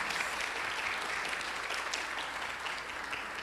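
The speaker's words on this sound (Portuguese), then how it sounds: "Salva de palmas!" An audience at a formal ceremonial session in Rio de Janeiro applauds as a theatre producers' association representative is called up, an even, fairly distant wash of many hands clapping throughout.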